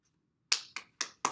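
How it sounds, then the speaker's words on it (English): Four sharp, distinct claps in a classroom, spaced roughly evenly after a brief silence, close and fairly quiet, like one or a few people clapping rather than a full room. "Round of applause."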